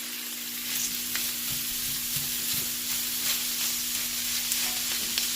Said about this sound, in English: So I will just fry it for a few more minutes, and once everything is nice and like golden brown, then I'm gonna switch it off.